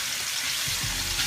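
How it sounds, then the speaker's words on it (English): Smoked pork jowls frying in a pan, a close steady hiss and crackle of sizzling fat filling the short moment, with a low bump partway through; no talking. "add your smoked jowls to your pan"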